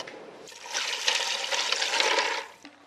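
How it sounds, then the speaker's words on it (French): About 600 ml of very hot water pours into a broth in a home kitchen, a loud, continuous splashing gush for roughly two seconds that then tapers off. "je vais mettre de l'eau bien chaude, 600 ml"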